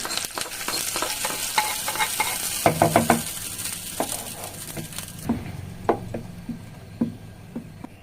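Hot tempering crackles and sizzles as it hits chutney, loud at first, with spoon taps and scraping knocks as it settles.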